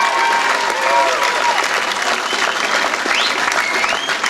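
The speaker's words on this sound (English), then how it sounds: "give a big round of applause for our friend Mike Smith" Audience applause for Mike Smith at the World Indigenous Youth Conference in Aotearoa, a steady, dense wash of clapping from a large crowd that holds for several seconds, with a few voices and a faint whoop rising over it.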